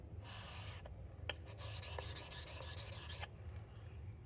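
Tool blade being sharpened on sharpening stones, a steady close gritty rubbing with repeated back-and-forth strokes, no talk.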